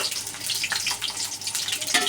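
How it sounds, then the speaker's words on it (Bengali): Garlic cloves frying in oil in a pan for a mashed side dish, a steady close hiss and sizzle with small crackles and brief bubbling bursts, no talking. "এখন রসুনের কোয়াগুলোকে আগে ভেজে নিব।"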